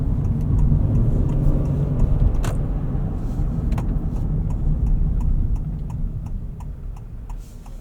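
Steady low engine and road rumble inside a 2026 Honda Passport TrailSport Elite on the move, with faint regular ticking above the hum and a couple of soft clicks, easing slightly toward the end.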